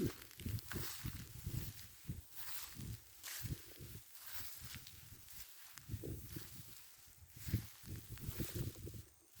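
Cold wind blows outdoors on a chilly Sunday afternoon, a faint, gusty rush with soft rustling that rises and falls continuously.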